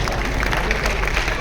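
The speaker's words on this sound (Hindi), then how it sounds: "तो ताली बजाएंगे।" An audience claps together at an RCM Business achievers' gathering, a dense, steady wash of applause filling the short moment without a break.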